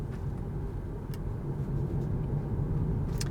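A steady low road and tyre rumble fills the cabin of a Kia e-Soul electric car as it drives around a roundabout. There is no engine note, only even hum and faint rattles.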